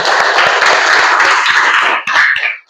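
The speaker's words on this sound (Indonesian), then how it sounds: "kita berikan aplaus buat kelompok 1" Dense, close applause from a classroom audience cheering a student discussion group, steady and loud for about two seconds before it thins into a few scattered claps.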